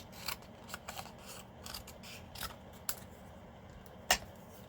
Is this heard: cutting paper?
yes